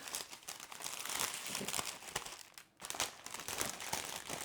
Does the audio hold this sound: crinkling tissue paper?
yes